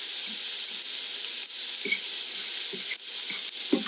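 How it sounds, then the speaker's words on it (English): Onions frying in hot grease in a pan before pinto beans go in for refried beans, a steady close broadband sizzle with faint crackles and a few soft stirring knocks, no voices. "I like to actually cook the onions until they're starting to brown a little bit, kind of almost getting a little bit burnt"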